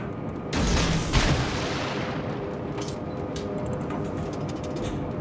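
Naval guns fire in the World of Warships video game: one heavy, booming salvo near the start rolls out into a long rumbling decay, over steady engine and ocean ambience with faint distant thuds.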